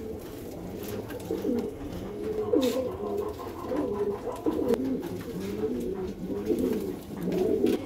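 Several Madrasi pigeons with deep dark eyes coo together in soft, repeated throaty rolls close by, and someone briefly says a word over them.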